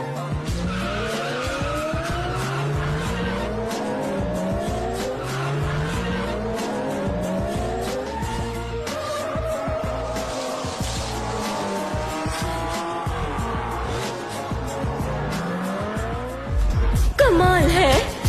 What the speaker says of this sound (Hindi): टैक्सी ने ईवी जोन्स को ओवरटेक करके इस रेस को जीत लिया है